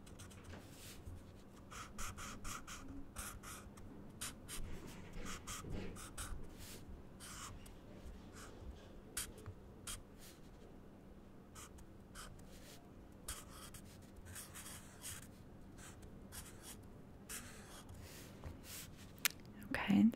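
Sharpie marker scratching across paper in short, intermittent strokes, close and soft, interleaved with quiet soft-spoken talk during a relaxed logic lesson.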